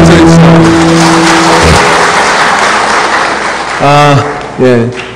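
A church congregation at a Sunday worship service claps in a loud, dense burst that gradually thins out, while voices rise over it toward the end.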